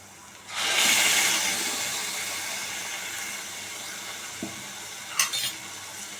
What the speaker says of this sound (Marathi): आता तो वाटलेला मसाला आहे तो आपल्याला टाकायचा आहे याच्यामध्ये